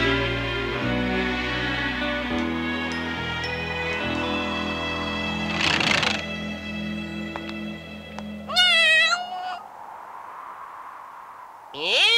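Cat meowing in an animated film, a short, high, wavering meow that rises out of an orchestral score, followed by a fainter trailing cry as the music fades.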